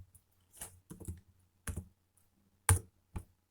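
Sparse keystrokes on a computer keyboard during Python code editing, five or six separate close clicks and short bursts with quiet gaps between them, no voices.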